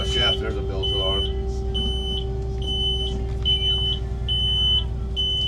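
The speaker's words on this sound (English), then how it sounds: "There's a bilge alarm." A bilge alarm on a charter fishing boat, beeping in steady repeated high tones over a constant engine hum, with someone talking at the start.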